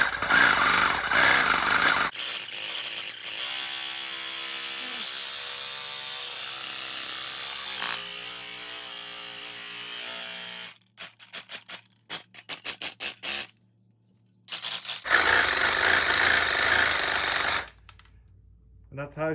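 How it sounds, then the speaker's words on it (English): A homemade paint can shaker rattles spray paint cans with a loud, harsh mechanical clatter that runs steadily, then breaks into choppy bursts and stops before starting up again, with a voice talking over it. "that's how I shake up my paint cans. My own homemade, kind of scary, kind of redneck paint can shaker."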